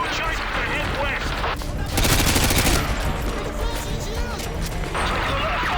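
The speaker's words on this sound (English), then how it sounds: "Taking a lot of fire from the militia!" Dense automatic gunfire fills a firefight in Call of Duty: Modern Warfare 2, a militia battle through a market, with loud overlapping bursts that swell to a heavy barrage midway and continue under shouted talk.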